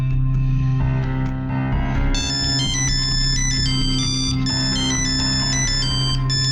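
A phone ringtone plays loudly and continuously, a bright repeating electronic melody with steady tones underneath, alone without any voices.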